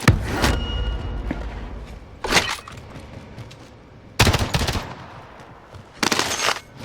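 Gunfire in Warzone comes in three sharp, loud bursts of rapid automatic shots separated by quieter pauses, with a short single burst near the start.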